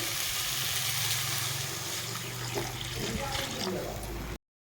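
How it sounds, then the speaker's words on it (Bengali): Water is poured into a pan of potatoes fried with spices in oil, giving a loud sizzle and rushing splash that fills the clip under a speaking voice, then cuts off abruptly near the end. "মশলার সাথে আমার আলুটাকে কষানো ভালোভাবে হয়ে গেছে তেল ছেড়ে দিয়েছে দিয়ে দিব পরিমাণ মতো জল"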